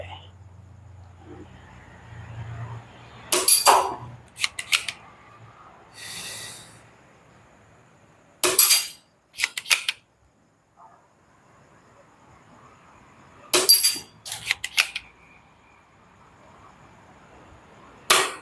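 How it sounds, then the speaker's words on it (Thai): A Maruzen APS-01 spring-air BB pistol firing, several sharp close snaps in small bursts spread across the stretch with quiet gaps and faint low background noise between them. "โอเคไหมยิงได้ปกตินะครับ ตัวปืนไม่มีปัญหานะครับผม"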